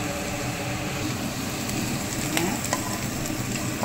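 A handful of curry leaves spit and crackle in hot oil, a dense steady sizzle with a few sharper pops near the middle, close and continuous with no talking.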